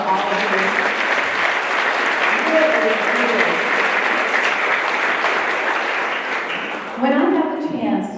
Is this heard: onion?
no